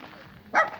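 A small dog gives a single short, sharp bark close by, preceded by quiet background murmur.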